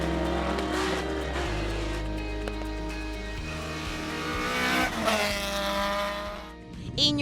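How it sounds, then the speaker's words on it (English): Rothmans-liveried Opel Manta 400 rally car at a speed festival in Gowran, engine revving and shifting through gears with tire noise, loud and close, building to a sharp rise near the end. "Ian, you're driving a beautiful Rotman's Manta 400."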